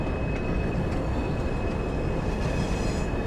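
A train in Train Sim World runs on the snowy Buxton Midland to Manchester Central route, giving a constant loud rumble of wheels and running gear with a thin steady whine above it and no talk.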